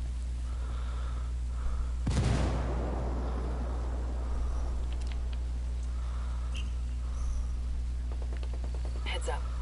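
A frag grenade blasts in the Ghost Recon video game during a ranked 4v4 PvP match: one loud, close burst about two seconds in that fades over a couple of seconds, with a steady low game hum underneath and later faint clicks and effects.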